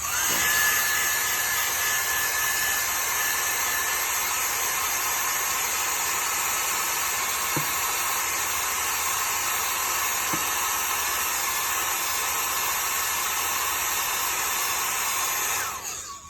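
A hair dryer blows steadily on a painting to dry the paint, a loud, even whirring hiss running unbroken for about sixteen seconds before it switches off.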